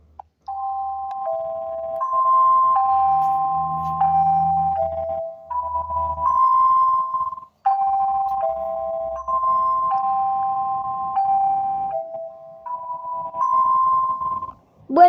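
Motorola Argon default alarm ringtone, a bright melodic sequence of repeating electronic tones that plays through twice with a short gap, loud and alone with no talk.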